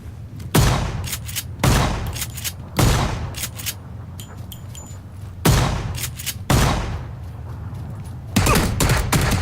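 Gunfire in the PUBG video game, a series of loud, sharp bursts of shots in irregular clusters, some rapid strings and some single cracks, with no talk over them.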